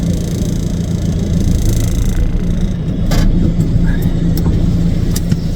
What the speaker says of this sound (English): I'm just reversing into my drive here